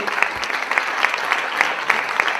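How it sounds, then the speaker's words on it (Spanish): Audience applause at an event, a steady wash of many hands clapping with some sharper individual claps standing out, moderately loud and continuous. "yo quiero un aplauso para él porque es muy valiente"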